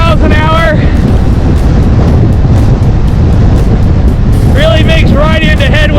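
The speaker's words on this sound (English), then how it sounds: "I got a pretty good headwind I'm right into" Loud, steady wind roar from riding a Trek Allant+ 8S e-bike at about 22 mph straight into a headwind, a constant broadband rush filling the whole clip, with a voice talking at the start and again near the end.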